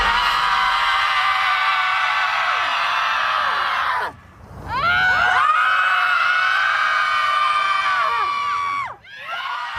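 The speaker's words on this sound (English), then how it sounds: "A group of 20 Boston moms were so exhausted by the pandemic, they met in a field to scream it out" About twenty Boston moms scream together in an open field, a loud sustained group scream that drops briefly near the middle, then resumes as long shrieks and yells before cutting off.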